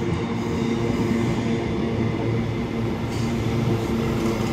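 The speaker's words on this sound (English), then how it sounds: "And just arriving in as well is going to be the 21:46 ScotRail service to Damure from Cumbernauld" A ScotRail Class 320 electric train runs into Motherwell station at night, a steady, close, continuous low rumble and rolling rail drone throughout with no voices.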